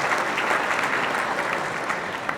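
An audience at a mayor's prayer breakfast gives a brief burst of steady, fairly distant clapping that fills the room, with no talk over it.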